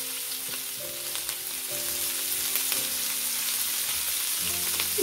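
Onion and green chilies frying in oil beside puti fish in a pan, a soft continuous sizzle with light crackling and occasional stirring, close and fairly quiet, with faint background tones underneath.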